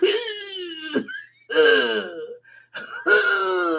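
A voice imitates a smoker's cough in three strained, raspy bursts separated by short gasping pauses, close and fairly loud.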